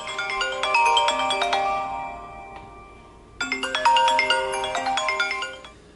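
A phone rings with an incoming call, a melodic electronic ringtone playing a bright chiming phrase, pausing briefly, then repeating loudly and clearly with no talk over it.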